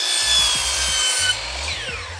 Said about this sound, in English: we're gonna rip this guy in half, table saw